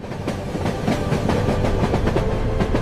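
A train from Colombo to Kandy, Sri Lanka, rolls steadily along the rails with a rhythmic clickety-clack of wheels over joints, loud and close, with no voices.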